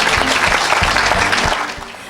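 A church congregation at a Sunday service applauds, with dense, loud clapping and some cheering that fades slightly toward the end.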